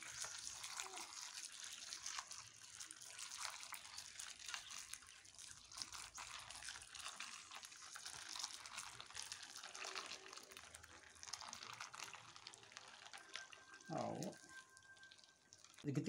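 Water poured steadily into a pot while snails (babouche) are being cooked, a continuous splashing gush running for most of the stretch, with people talking over it.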